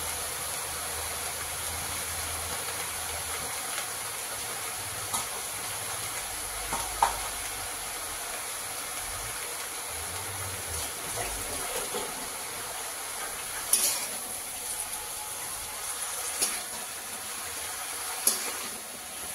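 Greens cooked with fish are stirred in a pan over a soft continuous sizzle, with occasional light scrapes and taps of the utensil, close but fairly quiet, and no voices.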